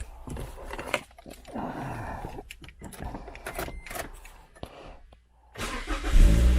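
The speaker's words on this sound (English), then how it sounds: "I'm gonna start it up, let it run for just a couple minutes to get warmed up." A Scion tC bought at auction is cranked over and catches, its engine settling into a steady idle, with a brief key jingle and a loud burst near the end.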